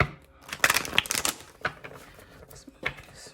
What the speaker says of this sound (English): Let me shuffle one time.